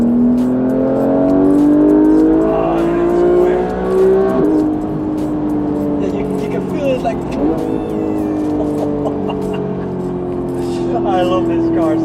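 A Porsche 911 with its PDK gearbox in sport mode accelerates hard from inside the cabin, the engine note climbing steadily, then a quick upshift and another rising pull, loud and close beneath occasional talk.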